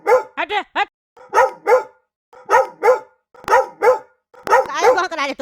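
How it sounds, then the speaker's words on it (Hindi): Dogs bark in a neighbourhood lane, close and loud, in quick pairs of sharp barks with short pauses between them, ending in a longer overlapping burst of barking. "काहे भौंक रहा है तुम लोग?"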